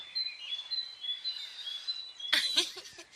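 Birds sing and chirp in high, thin phrases, with a busier burst of calls near the end; quiet, distant-sounding morning chorus.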